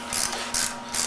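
A ratchet fitted with a 9/16 socket works on a 1949 Harley-Davidson Panhead motorcycle, giving three short bursts of close, crisp pawl clicking at an even pace.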